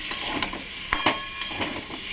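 Stirring a mixed vegetable curry (pach mishali sabji) in a pan, a soft sizzle broken by a few quick scraping clicks of the spoon against the pan.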